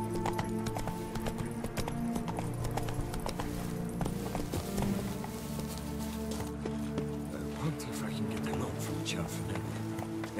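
Hooves of Roach, a horse in the video game The Witcher 3, clip-clop steadily through a dense mix of game music and ambience, with the rhythm running the whole time and voices talking over it.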